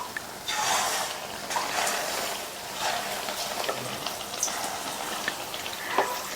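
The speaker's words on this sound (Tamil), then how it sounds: "பஜ்ஜி எண்ணெயில் போட்டதுக்கப்புறமா ஸ்டவ்வை வந்து மீடியம் ஃப்ளேமில் வச்சுருங்க" Potato bajji sizzling in hot oil in a home kitchen, a steady close crackle of frying with occasional sharper pops throughout.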